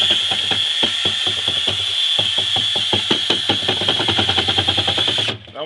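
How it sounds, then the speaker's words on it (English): Rapid wooden knocking and scraping as about 20 gallons of thick corn mash for moonshine is stirred in a barrel, steady rhythmic clunks close by that stop abruptly near the end. "I'm just going to give it a stir"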